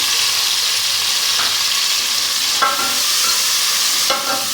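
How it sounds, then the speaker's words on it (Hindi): Garlic and tomatoes fry in cumin for Punjabi mutton pulao, with loud steady sizzling close up and a few scraping stirs from a spoon against the pan. "इसको थोड़ा सा भून लेंगे।"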